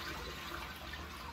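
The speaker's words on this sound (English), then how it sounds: "And I'm just adding in nice cool water." Cool water pours from a tap into a water bath canner loaded with jars of canned zucchini, a steady, soft rushing flow heard alone and fairly faint.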